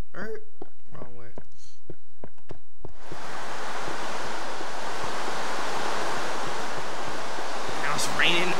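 Steady heavy rain in the Minecraft-based game The Legend of Notch hisses in a dense wash of noise, starting abruptly after a few short sounds and continuing loud and unbroken.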